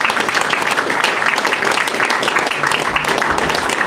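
A room full of football supporters at an informal fans' meeting breaks into a sustained round of applause, dense clapping holding steady throughout with a few voices mixed in.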